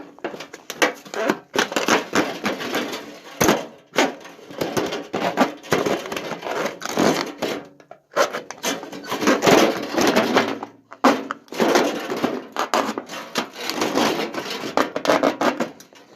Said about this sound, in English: let's try to hacksaw our way out of an aircraft cockpit